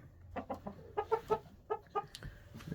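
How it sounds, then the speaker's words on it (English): Chickens cluck in short, close bursts, a Jubilee Orpington rooster among them, with soft barnyard background noise. "This is Sarge, my Jubilee Orpington rooster."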